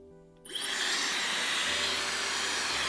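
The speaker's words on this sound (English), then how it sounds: "I am going to get my hairdryer and use it for the very first time" A Dyson Supersonic hair dryer whooshes on and blows steadily, a loud, broad rushing airflow with a faint motor whine underneath, running continuously.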